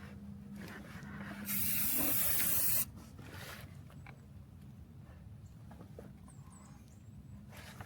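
Black spray coating hisses from an aerosol can onto a 1973 Ford Maverick, one loud steady burst lasting about a second and a half, then quiet shop ambience with faint rustling.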